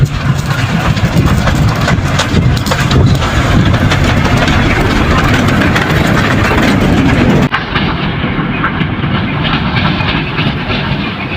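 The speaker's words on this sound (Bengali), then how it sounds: "চলুন এখন ট্রেন চলাচল করার সেই দৃশ্যটি উপভোগ করি।" A children's park ride train runs past at close range, a loud continuous rumble of engine and wheels with rhythmic clatter, easing slightly in the final seconds.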